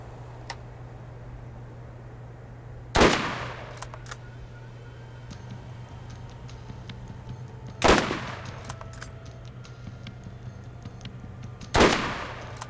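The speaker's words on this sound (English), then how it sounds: "There's 2 automated gun turrets right there, so you need to just be careful about those." Automated gun turrets fire in Borderlands in three sharp, loud bursts spaced several seconds apart, each a crackling volley over a steady low hum and faint ticking, with no talk.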